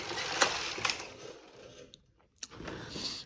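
A knitting machine carriage slides across the needle bed with a rough mechanical rasp, then a pause and a short clack before it moves on, partway through shaping a 1x1 rib neckline.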